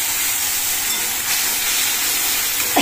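Hot oil sizzling in a pan before a spice paste for bhetki fish korma is added, a steady loud hiss filling the whole moment with no talk.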